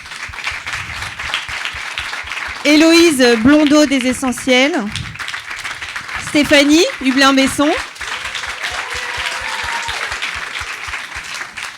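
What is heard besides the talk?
audience applause for conference speakers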